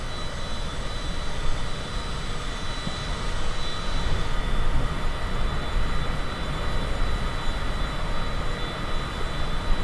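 A Cessna Citation CJ4 business jet in Microsoft Flight Simulator gives a loud, steady jet engine roar with a thin high whine, continuous throughout without speech.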